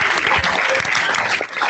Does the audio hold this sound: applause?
yes